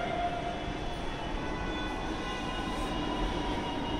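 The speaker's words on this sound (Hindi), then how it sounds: "और ये हमारी मेट्रो आ चुकी है" A Lucknow Metro train pulls into the station with a loud, steady rolling rumble and hiss of the carriages passing close by, with no talking.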